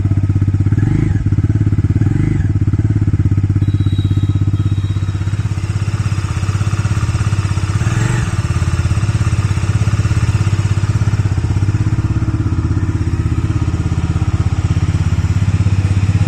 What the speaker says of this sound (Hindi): यहाँ से आप इसके एग्जॉस्ट के नोट को सुन सकते हो